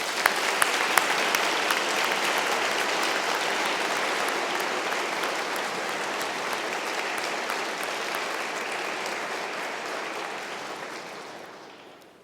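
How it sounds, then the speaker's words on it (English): A large audience claps for new doctoral graduates at a university degree ceremony, a dense, steady roar of applause that carries on for several seconds before tapering off at the end. "So the first group to receive their doctoral degrees, receiving their applause."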